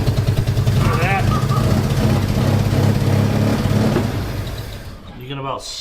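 An old Mazda rotary pickup engine with a Holley carburetor idles close by with a steady, throbbing rumble, and a brief voice cuts in over it before the sound drops away near the end.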